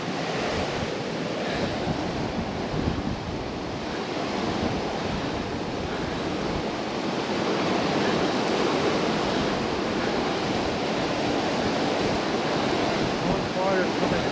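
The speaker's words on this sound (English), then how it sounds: "All this water is coming from the glacier." Glacier meltwater river in McCarthy, Alaska, rushing beneath a bridge, a steady broad roar of churning water with some wind buffeting the microphone throughout.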